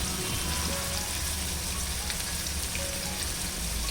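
Fish sizzling in a pan with a small cube of butter, a steady dense frying crackle that continues without pause and without speech, close and even in loudness.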